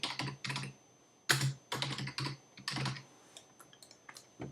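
A name being typed on a computer keyboard comes through as bursts of clustered key clicks with brief pauses between them, close and distinct with a faint steady tone underneath.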